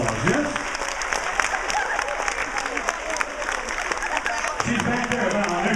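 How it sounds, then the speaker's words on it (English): Sustained applause from a cruise ship show audience at a hypnotist's performance, steady dense clapping that fills the whole stretch with a few cheers and murmurs mixed in. "Give all our friends another big round of applause."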